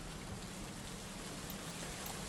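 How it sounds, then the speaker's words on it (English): Steady, dense rain hiss from a rainy scene in an Unreal Engine 5 game, a continuous even wash of falling drops with no talk. "So it's raining, you can see the rain, you can see that everywhere is wet."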